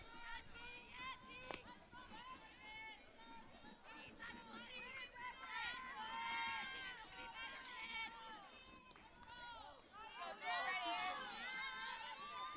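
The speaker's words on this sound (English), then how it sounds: "Oh, hearing it from the crowd, you can hear they were in it." Crowd at a high school softball game between the Wimberley Texans and Davenport Wolves, a dense roar of cheering and shouting voices that swells loudly and stays busy throughout, with excited chatter and yells rising near the end.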